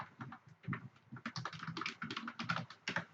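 Typing a search into Google on a computer keyboard: quick, close clusters of key clicks in an irregular rhythm, clear and alone for a few seconds.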